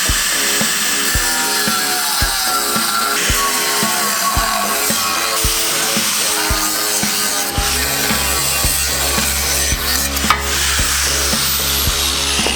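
A power saw cutting through the top of a hot tub, a loud, steady buzzing rasp with a rapid pulsing rhythm that shifts into a lower, heavier drone partway through the cut.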